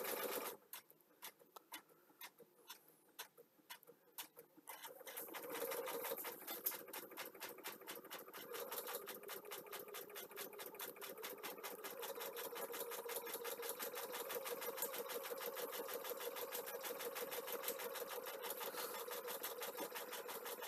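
An industrial overlocker sewing machine starts after a few seconds of quiet ticking and then runs steadily and loudly, its rapid stitching hum continuing through the rest of the clip with no talk.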